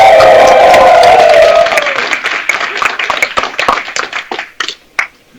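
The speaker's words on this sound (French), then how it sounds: "il faut encore beaucoup plus applaudir pour ça" A crowd at an Ivorian political rally applauds, a loud wash of clapping that thins into scattered claps and fades, with a voice or tone audible at the start.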